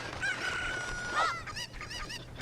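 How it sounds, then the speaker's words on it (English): Chickens, apparently in a video game, crow once with a rising cock-a-doodle-doo, then break into a string of quick clucks, faint against a low background hum. "Chickens."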